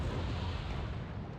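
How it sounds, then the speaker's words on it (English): Mortar fire and explosions from the real-time strategy game Wargame: Red Dragon, a dense continuous rumble of booming blasts with low-end weight, steady and loud throughout, no voices. "My Vulcan here gonna get annihilated by those mortars"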